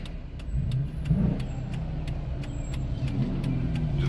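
Cars at a 2020 graduation ride out, engines rumbling and revving nearby in a low, steady growl with a brief surge of throttle, while sharp rhythmic ticking runs through the background.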